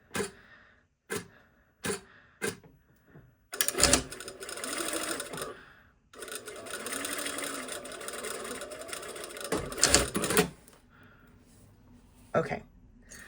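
A sewing machine stitching a seam on a sew-on fly front, starting with a few short taps and then running in two sustained whirring bursts, close up.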